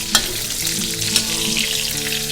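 Pork belly sizzling hard in its own rendered fat as it is stirred in a pan, a bright crackling fry close by with a couple of sharper pops, loud and steady without any voices.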